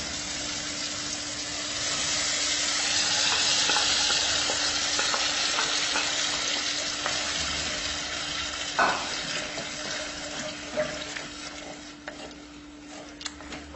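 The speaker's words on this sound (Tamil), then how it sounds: "இப்போ நம்ம பருப்பு ஊற்றுவோம்." Dal poured into a sizzling mix of mashed tomato, onion and chili powder and stirred, a loud, steady frying hiss that eases off, then scraping stirs and clinks toward the end.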